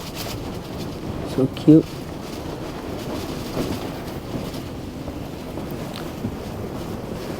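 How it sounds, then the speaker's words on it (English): Strong wind buffets outside a yurt in Mongolia, a steady rushing roar across the whole span, with a brief spoken comment early on. "It's too windy out there."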